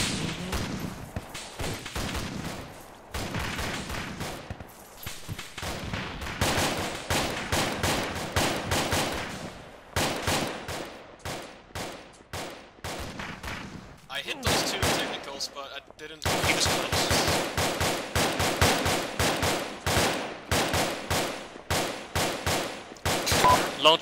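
Video game battle in Arma with loud, near rapid bursts of rifle and machine-gun fire, rattling in long volleys with brief pauses, a voice faintly under the shooting.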